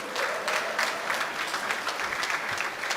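An audience claps during a speech at a Namakkal district basketball association gathering, soft, steady, somewhat distant applause that comes in rhythmic surges.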